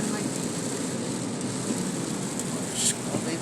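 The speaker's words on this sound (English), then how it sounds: "Yeah, it's raining, so that's why." Steady rain falls in Dubai, a continuous soft hiss of drops at moderate volume with no speech over it.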